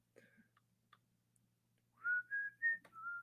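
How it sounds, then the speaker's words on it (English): A man whistles a short tune at deer camp in the snow: four clear sustained notes in a row after a couple of faint clicks and breaths, close and alone with no talk over it. "Sorry, I'm whistling."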